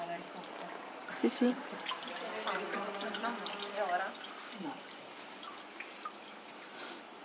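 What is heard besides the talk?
water draining and dripping from paper mache pulp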